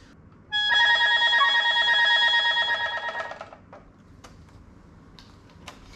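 A rapid trill or tremolo on a Chinese instrument shimmers for about three seconds, dense and fast, then gives way to a few faint clicks and handling noises.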